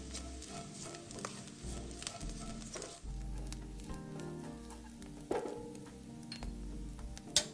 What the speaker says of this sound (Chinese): 最後再將切片臘腸倒入，煸一煸香。